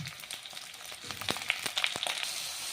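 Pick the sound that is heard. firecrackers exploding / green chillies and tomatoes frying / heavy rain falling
green chillies and tomatoes frying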